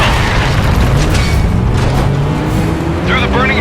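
Explosion in the racing video game Stuntdrive: Ignition, a sustained loud rumbling boom with roaring blast noise and engine drone, filling the whole stretch, with a voice speaking over it near the end.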